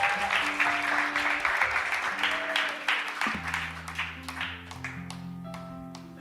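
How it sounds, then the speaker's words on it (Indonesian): Wedding guests clap during a ceremony, a lively crowd applause that thins into a few separate claps, while sustained musical tones play underneath. "Ayo tepuk tangan."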